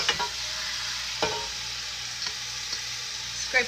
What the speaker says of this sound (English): This part, we're just browning it, so you're gonna cook it on high